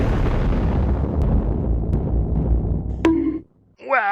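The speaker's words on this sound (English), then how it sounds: "Explosion.mp4" A big explosion sound effect booms out with a dense, rumbling blast that holds steady for about three seconds, then cuts off abruptly into a short silence before a brief electronic sweep.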